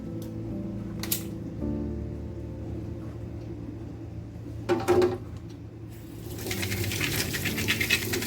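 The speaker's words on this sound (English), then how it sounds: "Just a toothbrush and a little bit of elbow grease, it cleans like new." A toothbrush scrubbing a washing machine filter, with soft brisk bristle scratching and occasional rattles over a steady low rumble of running water, close and moderately loud.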